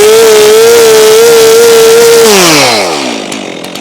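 A Stihl MS362C chainsaw fitted with a Barkbox muffler screams at high revs, very loud and close, then drops away as the engine winds down toward idle.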